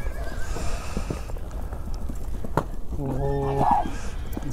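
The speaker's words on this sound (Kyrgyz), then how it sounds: "Кийинки ат чыгып калды." Bay-coloured three-year-old horse named Gladiator being led out for a sport event, hooves thudding under a background of people talking, then a clear, close whinny near the end.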